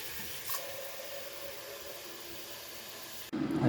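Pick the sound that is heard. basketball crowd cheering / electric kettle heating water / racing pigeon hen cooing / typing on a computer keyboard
electric kettle heating water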